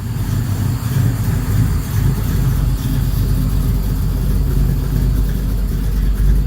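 A car engine runs at a steady idle with a deep, rumbly low-frequency drone, close and fairly loud, holding an even rhythm throughout with no talk.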